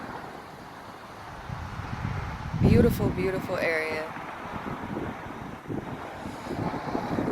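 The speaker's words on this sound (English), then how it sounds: "it's really windy and I don't have the sound equipment" Wind buffets a cell phone microphone outdoors near open water, a constant low rumble with gusty swells that rise and fall. A person speaks briefly partway through.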